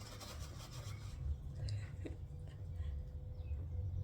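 A falconry hawk rubbing and wiping its beak against a leather glove, giving soft, close, continuous scratchy rasping over a low steady background hum.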